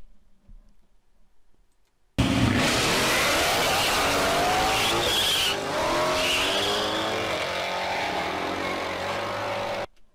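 Ford Mustang skidding and losing control, a loud burst of roaring engine and squealing tires that starts abruptly and holds steady for several seconds, with clattering crash-like noise mixed in, after a quiet lead-in.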